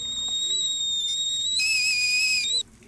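A kettle whistles as water boils in the horror game The Caregiver, a shrill, steady high tone with a faint harmonic above it. The pitch jumps higher partway through, then the whistle cuts off abruptly near the end.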